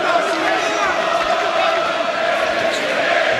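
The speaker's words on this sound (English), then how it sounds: "the Nathan Heaney crowd in full voice here in Birmingham" A boxing arena crowd in Birmingham roaring for Nathan Heaney during his bout with Brad Paulus: a dense, steady wall of loud cheering and chanting fills the space without a break, while a commentator talks over it.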